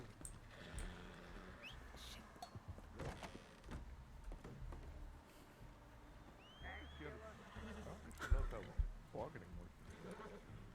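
A horse in the Red Dead Redemption 2 (RedM) roleplay world neighs partway through, a short rising and falling whinny amid game ambience, with players talking over much of it.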